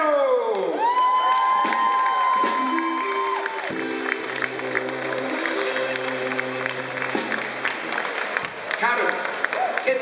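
A crowd at a Bavarian Volksfest in Pfaffenhofen cheers, whoops and applauds the reigning festival queen, with music tones and a loudspeaker voice sounding over the lively, continuous noise.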